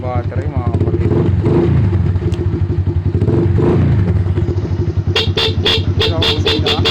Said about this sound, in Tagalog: Ito busina.